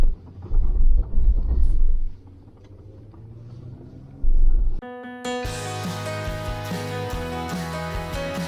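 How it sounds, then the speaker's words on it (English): Wind buffets loudly through the rolled-down windows of a car climbing a road near Empire, Colorado: heavy low rumbling gusts in the first seconds, a brief second gust, then music takes over. "if you hear a lot of wind noise right now, it's because I've got the windows rolled down"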